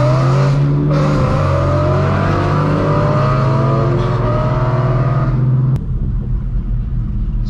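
Straight-piped BMW M4 F82 exhaust booming as it accelerates through the gears, a loud close rasping drone rising in pitch, then cutting off abruptly near the end to a quieter idle rumble.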